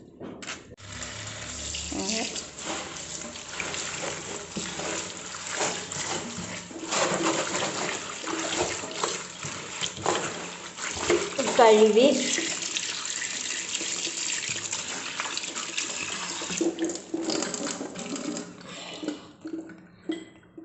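Tap water running steadily into a sink while mixed leafy greens such as spinach and other cheera are washed by hand, a continuous splashing stream with louder surges and brief handling sounds, close by.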